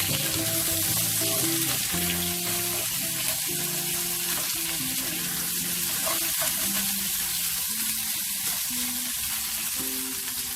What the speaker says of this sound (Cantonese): 煎到兩面都金黃咧，就加埋我哋嘅冬菇落去